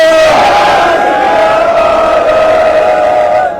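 A large rally crowd in Moga, Punjab, roars the Sikh jaikara response in unison: a loud, sustained, drawn-out collective shout that holds steady for several seconds before tapering off at the end.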